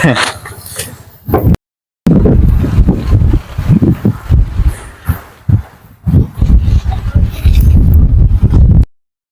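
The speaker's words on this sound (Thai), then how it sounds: "ลมแรงนะครับทุกคนเนาะ" Strong wind buffets the microphone in an open sunflower field, loud gusty rumbles and roaring bursts, broken by brief dropouts, with someone talking throughout.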